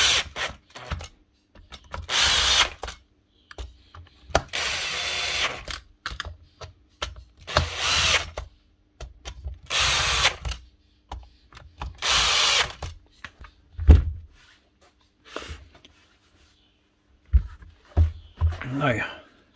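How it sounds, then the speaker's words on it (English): A power drill drives machine bolts in short whirring bursts, about five in a steady rhythm, close by, with clicks and handling noise between them, during repair of a Bosch GBH 5-40 DCE hammer. "Slap them home then with a drill."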